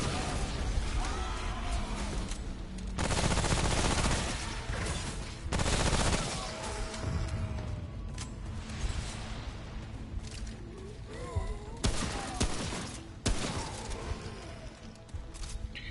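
Submachine-gun fire in the shooter video game Remnant, several loud rapid bursts with pauses between them, mixed with other game effects and no talk.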